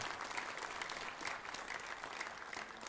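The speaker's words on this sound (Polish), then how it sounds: "Poklaskajcie im trochę." An audience at a Silesian schlager concert and year-end award ceremony claps in a continuous burst of applause, dense and even, with no speech over it.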